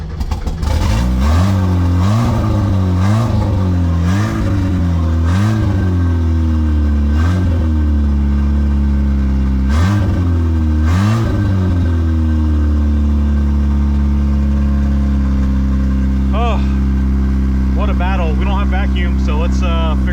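A Mazda Miata engine, under repair on its throttle body cable and coolant line, idles high with loud repeated rev swells that settle into a steady elevated drone, while someone talks over it.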